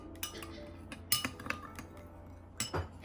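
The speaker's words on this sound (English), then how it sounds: "Next we're going to add our freshly ground pepper, okay, just give that a good mix." Metal utensil clinking against a bowl while freshly ground pepper is mixed into an oil-based Greek salad dressing, a few sharp scattered taps and scrapes, close and fairly quiet.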